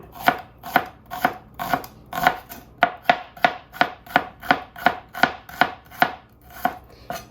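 A knife slices food on a cutting board in a steady, even rhythm, about two sharp strokes per second, close and clear with no talking.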